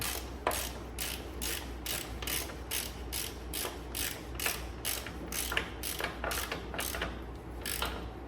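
A ratchet wrench tightens the rear axle on a Ducati Scrambler motorcycle standing on a stand, giving a long run of fast, evenly spaced clicks, close and steady.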